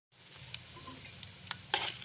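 Tempering seeds and dried red chillies fry in hot oil in a kadai for chutney, giving a steady soft sizzle broken by a few sharp crackles and pops, with no talk.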